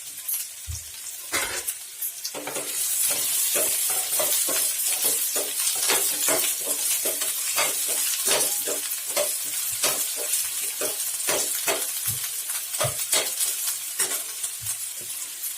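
Green chilies and a large onion fry and sizzle in a pan for a cauliflower masala gravy, with a steady loud crackle cut by frequent sharp scrapes and clinks of stirring.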